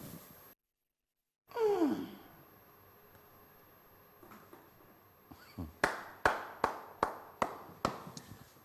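After a quiet stretch, someone claps by hand about seven times in a steady, even rhythm, each clap sharp and close.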